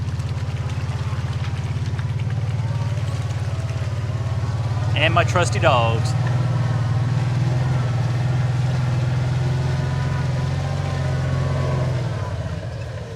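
A four-wheel drive vehicle crawls along a very muddy off-grid ranch track, its engine a steady low rumble throughout, with someone speaking briefly and a short high-pitched whine midway.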